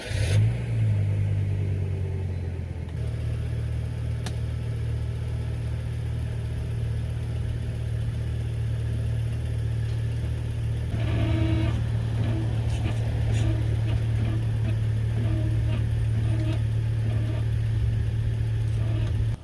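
A Volvo S70 with a five-cylinder engine idles steadily, then its engine note shifts as the car backs up onto ramps, a continuous low drone with no talk.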